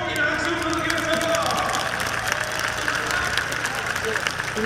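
A crowd applauds athletes lined up before a women's 1000m race, a steady wash of clapping that runs throughout while an announcer speaks over it.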